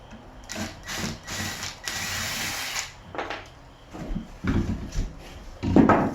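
Power drill driving screws into a mobile home floor in several short bursts, whining up and stopping with pauses between, close and fairly loud, with clunks and handling noises in the gaps.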